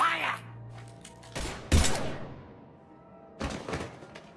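Gunfire erupts in the video game Mass Effect 3: a few sharp, loud bursts separated by short pauses, mixed with game sounds and voices.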